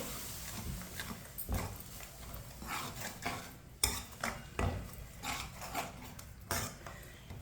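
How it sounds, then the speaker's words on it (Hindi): Sweet vermicelli in a pot being mixed after sugar goes in, with repeated scraping and clinking strokes of a spoon against the pot, close and soft, in irregular bursts. "चीनी को अच्छी तरह मिक्स कर लेंगे।"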